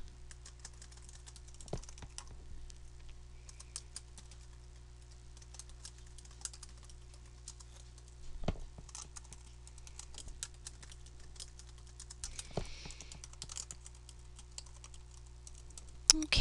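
Light, quick keystrokes tap away on a computer keyboard in bursts, with occasional louder key presses over a quiet electrical hum.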